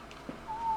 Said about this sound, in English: I forgot I whistled.